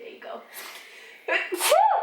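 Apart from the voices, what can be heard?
child sneezing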